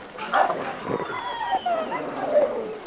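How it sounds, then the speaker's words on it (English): A dog called Thunder, kept in a kennel yard, yips and gives short barks mixed with whimpering. Several brief, pitched cries come up close, and the background is faint. "This is our Thunder dog."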